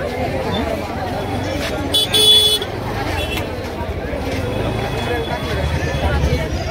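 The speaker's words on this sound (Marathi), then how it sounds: "गर्दी भरपूर आहे." Busy babble of a large crowd outside the Trimbakeshwar temple gate, mixed with road traffic, passing vehicles and a short car horn toot in the middle.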